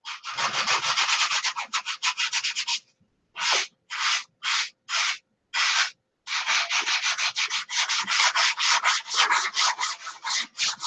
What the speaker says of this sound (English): so I'll sand on that a little bit more